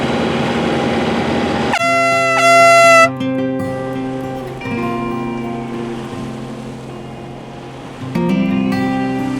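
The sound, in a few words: boat foghorn sounding at sea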